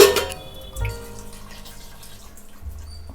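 Water, left over from mixing ginger-garlic paste, is poured into a pot of sea crab pieces for curry: a short splashy burst at the start, then a softer trickle with a brief thud, close and fairly quiet.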